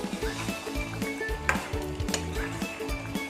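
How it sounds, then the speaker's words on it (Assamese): Chicken gravy frying in a pan while being stirred, with continuous close sizzling and rhythmic scraping strokes of the spoon against the pan, and a single sharper clink midway. "লৰাই দিছোঁ"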